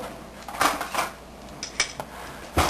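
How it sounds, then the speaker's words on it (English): Metal cutlery and kitchenware clink and rattle as a spoon is picked out while cooking a blackberry jelly glaze, giving several bright clatters spread across a few seconds. "I'm going to get a new spoon here"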